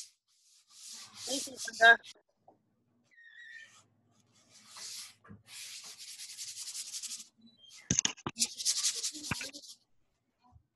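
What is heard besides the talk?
sanding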